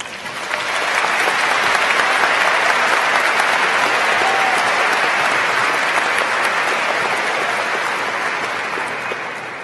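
Loud, sustained applause from a large commencement crowd at the 2013 University of Minnesota afternoon ceremony welcoming President Kaler, a dense steady roar of clapping that swells in and holds for nearly ten seconds.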